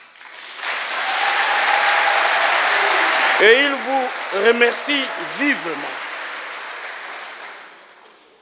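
Dense audience applause at a Congolese public ceremony launching work on a new wage policy, steady and loud for several seconds, with a voice speaking French over the middle stretch before the clapping fades.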